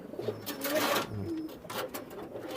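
Farm pigeons coo softly in a quiet setting, several rolling calls close together in the first half, then a couple more faint coos near the end.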